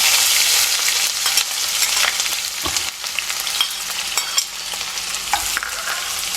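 Chicken sizzles in hot oil in a home kitchen, crackling and spitting continuously up close while occasional stirring scrapes cut through. No voices are heard.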